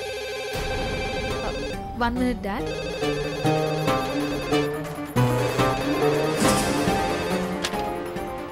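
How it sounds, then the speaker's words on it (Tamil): A phone rings with an office call, its electronic ringtone chiming in a steady repeating pattern for several seconds. Background music plays underneath and a voice speaks briefly. "ஆஃபீஸ்ல இருந்து ஃபோன் வந்திருக்கு"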